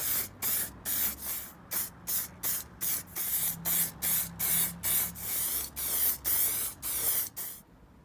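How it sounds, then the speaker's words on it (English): Clear lacquer is sprayed onto car parts in a run of short, evenly spaced hissing bursts, loud and close, with no talking. "several coats of clear lacquer, 15 minutes apart"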